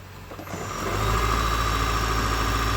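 A car engine idles steadily at close range after a jump start during an oil service on a Japanese import. A low, even hum builds up within the first second and then holds constant. No voices are heard.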